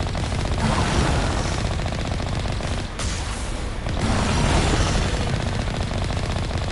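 Sustained, loud gunfire from conventional weapons in the science-fiction shooter game Mass Effect, dense rapid bursts with booming impacts continuing almost without pause, dipping briefly midway before resuming.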